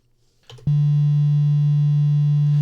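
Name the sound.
synthesized sine wave notes in Wavetracker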